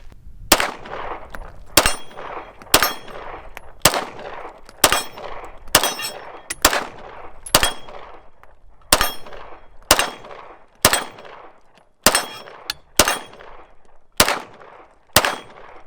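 Glock 19 pistol from an 80 Percent Arms build firing a full magazine outdoors, about fifteen sharp, loud shots at a steady unhurried pace, each trailing off into echo, with no talking.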